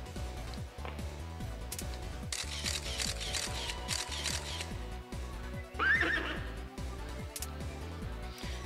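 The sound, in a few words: horse whinny in the video game Persona 2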